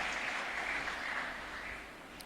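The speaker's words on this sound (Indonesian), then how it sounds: "boleh sekali lagi tepuk tangan untuk Profesor Dr. Haji Abu Rohmat" An audience at the opening ceremony of Indonesia's 2025 international Quran recitation competition (MTQ) applauds a professor, a faint, distant wash of continuous clapping with no voices.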